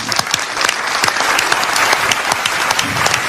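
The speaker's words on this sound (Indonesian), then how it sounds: "Kita beri tepuk tangan dulu untuk Pak Rohim" Studio audience breaks into loud, sustained applause for a guest, Pak Rohim, on an Indonesian TV show stage, a dense wash of many hands clapping steadily throughout.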